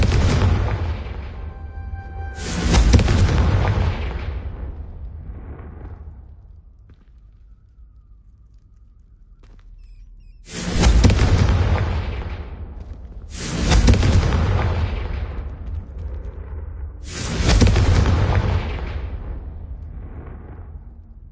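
Confringo fire spells cast in Hogwarts Legacy, five deep booming blasts, each a sharp burst that rumbles away over a couple of seconds, with a long quiet gap between the second and third, loud and close.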